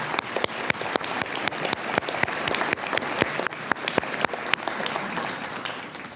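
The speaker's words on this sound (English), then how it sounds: "please join me in a round of applause" Steady applause from a medical school Match Day audience, many hands clapping densely and continuously, with sharp individual claps standing out at a lively, even rate.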